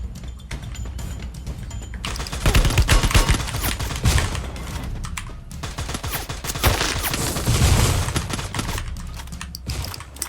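Gunfire in the battle royale game Free Fire, rapid clusters of close shots running through most of the stretch, dense and loud, with brief pauses between bursts.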